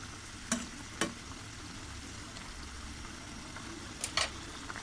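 Chicken meat sautéing in a pan, with a faint steady sizzle and a few sharp clicks of a spoon stirring against the pan.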